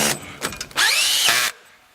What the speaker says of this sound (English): I've installed the first screw, and we're going to go with the second.